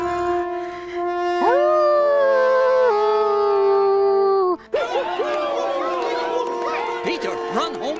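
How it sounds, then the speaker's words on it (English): A wolf howls in a long, loud, steady wail that rises and holds, breaking off abruptly, then further overlapping howls and yips follow, close and strong, with a musical score beneath, in a children's musical telling of Peter and the Wolf. "There is one dangerous wolf on the loose."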